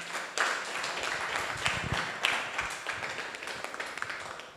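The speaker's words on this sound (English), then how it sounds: "One more round of applause for the coordinator of the Rule of Law Development Foundation" Audience applause at the close of a Rule of Law Development Foundation webinar talk, a steady patter of clapping from a small crowd with a few sharper claps standing out, no voices over it.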